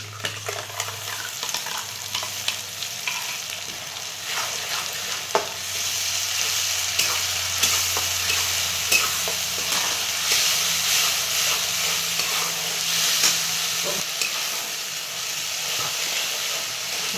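Onion with ginger-garlic masala paste fries and sizzles in a pan for egg masala, with a steady close hiss, scattered crackles and occasional stirring scrapes and clicks, no voices.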